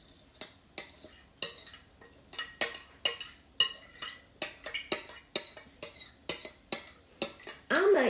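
A spoon stirs pineapple coleslaw dressing in a bowl, clinking against the sides in a steady run of about sixteen light, close taps, with a brief scraping swirl at the end and no talking.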